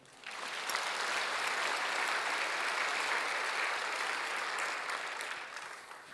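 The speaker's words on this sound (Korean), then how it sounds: "우리 방송실 박수 좀 쳐주세요" A congregation at a church revival meeting breaks into sustained, dense clapping that swells quickly and holds steady, sounding somewhat distant and soft, with no speech over it.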